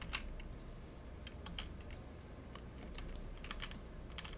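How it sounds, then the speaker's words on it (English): Steady computer keyboard typing during a live animation session, rapid light clicks in irregular bursts, fairly faint and close, with no talk. "You will hear a lot of clicks. You know what I'm saying? I'm using my keyboard and my pen."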